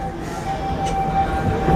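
Wildlife Express train at Disney's Animal Kingdom running with a steady rumbling rail noise and a sustained high tone, moderately loud and continuous, with no talk.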